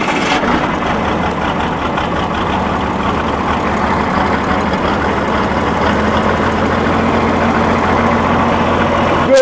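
A cold diesel tractor engine, recovering from a dead battery, runs at a loud, steady idle close by. The rumble is even and unbroken throughout.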